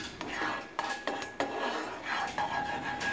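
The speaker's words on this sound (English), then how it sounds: "now the butter is getting good and melted, and I'm just getting it all over the pan" A utensil spreads melted butter around a Fissler Adamant Comfort pan, giving quiet, irregular scrapes and a few sharp metallic taps against the pan surface.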